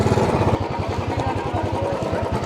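A motorcycle engine runs close by with a steady low pulsing throb while the bike is moved into a parking spot at Sonprayag on the way to Kedarnath.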